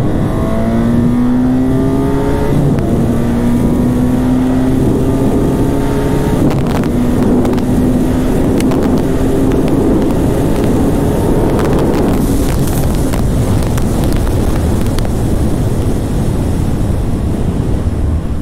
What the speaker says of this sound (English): so let's make a drag race